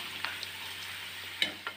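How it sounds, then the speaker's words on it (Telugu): Chicken pieces for pickle fry in a pan with a faint, steady sizzle, broken by a few soft scraping stirs near the end. "ఎర్రగా వేగుతున్నాయండి చికెన్ ముక్కలు"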